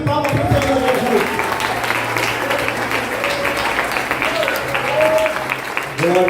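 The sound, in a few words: church congregation applause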